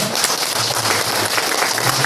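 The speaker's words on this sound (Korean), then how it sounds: "박수로 환영해 주시면" A church congregation applauds during a Sabbath service to welcome visiting members. Dense, even clapping fills the room throughout.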